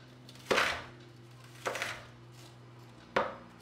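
A knife chops through an onion on a cutting board in three separate strokes, each a sharp, close thump against the board with a low steady hum behind.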